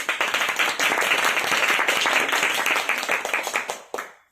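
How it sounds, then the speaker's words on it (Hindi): An audience at a motivational talk bursts into loud, dense clapping that holds steady, then breaks into a few scattered claps and stops abruptly near the end. "सबके लिए जोरदार तालियां हो जाए।"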